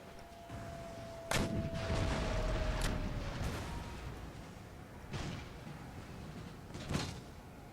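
Artillery guns fire in the Empire Total War video game, a series of booming reports spaced a second or two apart over a low, continuous background rumble, with no voices.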